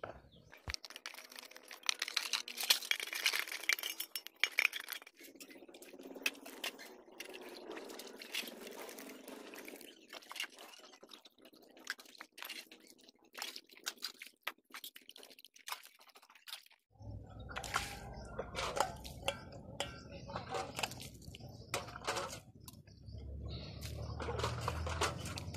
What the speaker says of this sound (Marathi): मी सकाळचे वाटले जे भांडे आहे ते नाश्ते चाय पाणीचे ते मी घासून घेते.